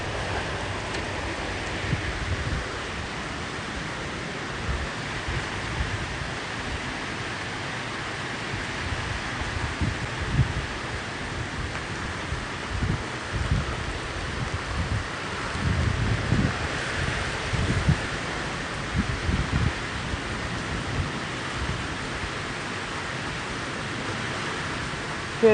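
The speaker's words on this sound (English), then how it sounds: "Hear that rain, how hard it's raining and blowing." Hard rain and gusting wind roar in a continuous broadband wash during a tornado-warned storm in Robertson County, Tennessee, with rumbling wind buffets on the microphone and no voices.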